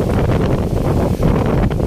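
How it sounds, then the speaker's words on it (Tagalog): Strong wind buffets the microphone outdoors at an open-air grilling spot, a loud, steady roar that barely lets up for the whole stretch. "Oh, grabe hangin mga idol."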